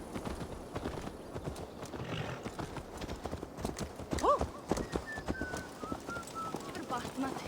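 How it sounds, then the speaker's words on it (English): Horse hooves clip-clop at a steady walking rhythm in the video game Assassin's Creed Valhalla, close and moderately loud, with an ambient backdrop and a brief bird call partway through. "Let's return the horse."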